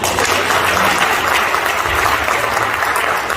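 An audience at a Busan telecom dealership business event claps in a dense, steady burst of applause that fills the room, loud and sustained without breaks.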